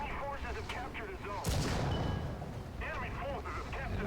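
A tank cannon fires in War Thunder, one sudden loud boom with a rumbling tail that fades over a couple of seconds, set against ongoing battle noise and someone talking before and after.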